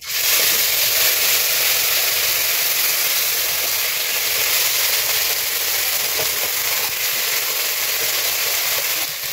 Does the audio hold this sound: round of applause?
no